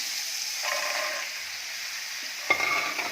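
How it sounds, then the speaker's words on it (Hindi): A ladle stirs makhana (foxnuts) with lemon juice and spices in a pan on low heat, giving a soft continuous sizzle and scraping hiss with a sharper clink of the ladle near the end, close and alone. "कड़छी लगातार चलाएंगे ताकि ये सब मसाले मखाने पे कोट हो जाए"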